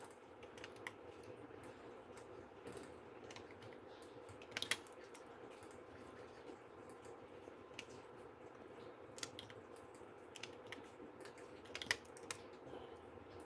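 Soft, steady key presses on a computer keyboard, with Alt and Ctrl strokes while duplicating items in Adobe Illustrator. The clicks are faint and scattered over quiet room tone, with a few sharper taps standing out.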